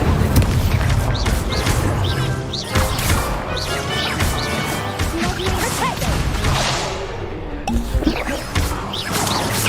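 Hogwarts Legacy's Incendio fire spell is cast repeatedly, producing loud whooshing bursts and crashing impacts layered with swirling magical effects throughout, with no pause between blasts.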